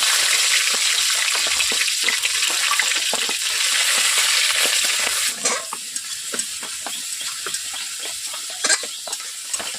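Onions frying in hot oil in a wok for a Bengali rohu fish curry with potatoes: a steady, loud sizzle throughout with scraping stirs and brief spatters, no talking.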